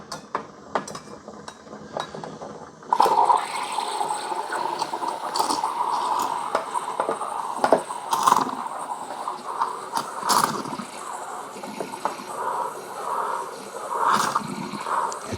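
A De Longhi 15-bar espresso machine's steam wand hisses steadily as it heats and froths milk, a continuous loud hiss joined by clattering knocks and bubbling, with no speech.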